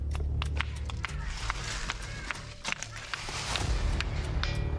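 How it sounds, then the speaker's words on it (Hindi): Ordinary rock struck repeatedly with another stone at an outdoor site, giving a series of sharp, dry clicks and knocks at an irregular rhythm, fairly close, over steady low background rumble. "ये सामान्य पत्थर की आवाज है"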